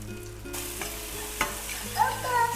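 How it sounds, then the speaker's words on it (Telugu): Ground masala paste frying in oil in a pan, a close steady sizzle with a few stirring scrapes and a brief hiss of spattering, no talking. "సో మనం దంచుకుందాం మసాలా పేస్ట్ అనమాట. ఇది కూడా వేసి వేయించేసుకుందాం."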